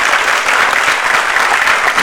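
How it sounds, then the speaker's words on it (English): Dense, sustained applause from a large audience at the inauguration of the National Tribal Dance Festival 2022, a loud, even roar of clapping that holds steady throughout. "with this thundering applause at the outset"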